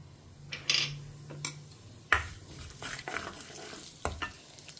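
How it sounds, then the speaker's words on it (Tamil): Mustard seeds and cumin crackle and pop in hot ghee, a steady low sizzle broken by sharp spluttering bursts and a few metallic pan clinks, close and without talk. "கடுகு பொரிய ஆரம்பிச்சிருத்து."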